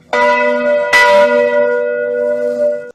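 A single bell strikes and rings out, a second strike lands almost at once, and the bright metallic tone sustains before cutting off abruptly.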